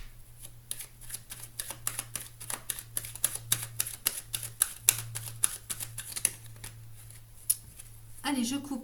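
Tarot cards shuffled and cut by hand, a long run of quick, crisp card snaps and flicks in an irregular rhythm over a faint hum, ending with a soft rustle and a brief voice.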